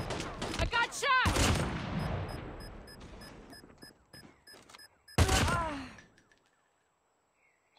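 A burst of COD Mobile game gunfire, loud and close at the start and again near the five-second mark, with chirpy game effect tones and a voice-like sound between, fading to near silence at the end.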